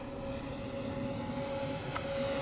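An X-fly Su-57 twin 40mm EDF RC jet flies at half throttle, a steady, fairly faint ducted-fan whine holding an even pitch throughout.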